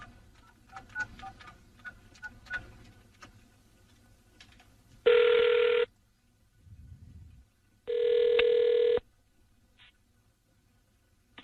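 A telephone rings twice on an outgoing call, loud electronic ring bursts about three seconds apart, preceded by faint clicks and dialing tones, with quiet line noise between.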